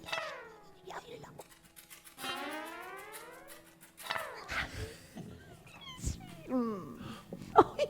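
A cat character meowing in a French children's stage show: drawn-out, sliding meows and yowls, probably voiced by a performer imitating a cat, mixed with barks and other performers' voices.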